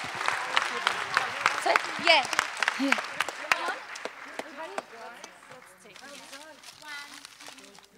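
Keynote audience applauds with scattered cheers and whoops, loud clapping in the first half fading under a voice.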